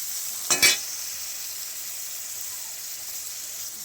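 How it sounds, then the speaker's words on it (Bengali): Leafy greens with salt and turmeric fry in a pan, giving a steady, soft sizzling hiss broken near the start by a brief louder scrape of stirring, then a faint sizzle at the end. "দিয়ে এখানে লবণ আর হলুদ দিয়ে আমি ভালো করে লাল লাল করে ভেজে নিতে হবে।"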